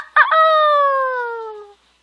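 A human voice mimics a rooster's crow: a quick stuttered start leading into one long, steady, gradually falling tone held for about a second and a half, loud and close, then silence.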